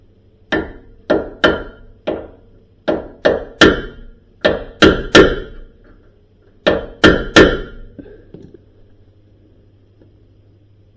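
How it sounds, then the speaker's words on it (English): A hammer strikes the axle nut of a Scion iQ to dimple it, ringing out in close, sharp metallic clanks, in quick clusters of two or three with short pauses between, and then falling quiet. "what we're going to do now is put a little dimple in that axle nut so it doesn't come loose"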